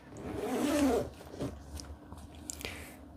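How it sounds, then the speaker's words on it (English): Zippers on a camera bag are pulled open: a crisp, smooth, close ripping zip over the first second, then a few shorter tugs and light handling sounds. "And the zippers sound great. They're very crisp and they are very smooth."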